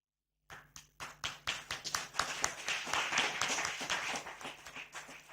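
A round of audience applause at a formal signing ceremony starts abruptly, with separate claps quickly swelling into dense, steady clapping that stays moderately loud to the end.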